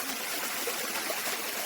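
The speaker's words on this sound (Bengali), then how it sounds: "আজকে একটা ঝর্ণাতে আসলাম" Water rushing steadily at a waterfall and stream beside Dhalai Thana road, a constant broadband wash that stays even and fairly close for the whole stretch, with no voices over it.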